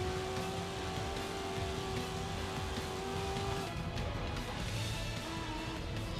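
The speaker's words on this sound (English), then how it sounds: "Hard on the brakes." A race car in the video game Grid Legends brakes hard, heard as a loud, continuous engine roar that drops in pitch partway through, with steady road noise throughout.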